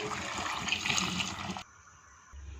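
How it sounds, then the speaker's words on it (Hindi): Water pours into a pan holding three quarters of a kilo of washed potatoes, a loud splashing gush for about a second and a half that stops abruptly, leaving near silence. "इसमें 6-7 कप पानी डाल देंगे।"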